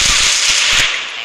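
Burst of rapid gunfire from a weapon in the battle royale game Garena Free Fire, loud and crackling, a quick volley of cracks that fades after about a second.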